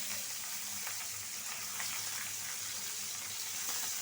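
Small pabda fish frying in a pan give a steady, close, dense sizzle and crackle with a faint bubbling undertone, heard alone without talk.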